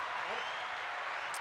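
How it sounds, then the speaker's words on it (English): Steady, dense applause fills a radio studio for a brief moment, a continuous hiss of many hands clapping at an even level. "So there we go, another round of applause."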